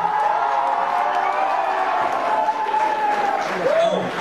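Crowd at a show in Verneuil-sur-Vienne breaking into loud applause with cheers and whoops, a continuous wash of noise with voices shouting over it.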